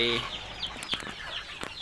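Yellow white-tailed chickens cluck in a short burst of a few soft, close calls over a quiet farmyard background.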